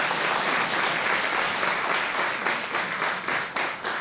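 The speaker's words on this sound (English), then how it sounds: "give him a hand clap" An audience gives a hand clap for a man at a live event, steady dense applause filling the room for about four seconds with no talk over it.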